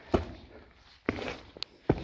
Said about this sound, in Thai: ในนี้เสียงฝีเท้าแค่เดินเบาๆยังก้อง